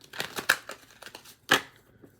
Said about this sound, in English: Do one more shuffle.